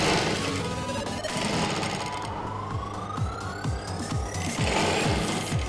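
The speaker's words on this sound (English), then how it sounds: "the next step is to top stitch on the remaining stitches from this 1 inch point up to the crotch depth, and I will make it a flat felt seam" A sewing machine runs continuously at close range, top stitching a flat felt seam on a pair of native trousers, with a steady rapid needle rhythm and small shifts in speed.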